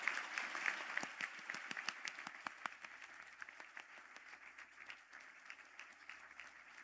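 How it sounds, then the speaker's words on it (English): Audience applauding graduates standing at a conferring ceremony, a sustained round of clapping heard from a distance that gradually thins and fades. "stand up for a well-earned round of"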